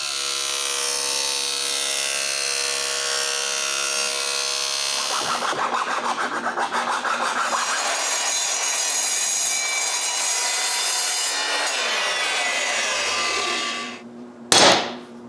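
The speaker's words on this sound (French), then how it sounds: "Je commence donc par couper des bouts d'aluminium." Aluminium stock being cut into pieces for new CNC machine supports with a power saw in a woodworking shop: a steady loud whining cut runs for about fourteen seconds, then a brief sharp clatter near the end.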